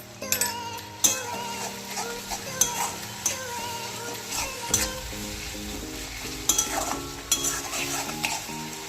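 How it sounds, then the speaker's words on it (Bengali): Peas are stirred in a frying pan, a spatula scraping and clinking at intervals over a soft, continuous sizzle, close by and without talk. "মটরশুঁটিটা দিয়ে আমি হালকা নাড়াচাড়া করে নেব"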